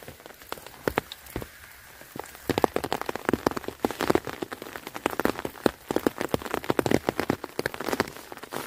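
Rain patters steadily in a cold Thai forest at about 6°C, with dense irregular drops tapping close by and growing heavier after a quieter start.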